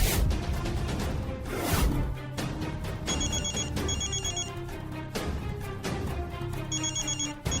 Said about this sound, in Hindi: अब हमारे घर से फोन है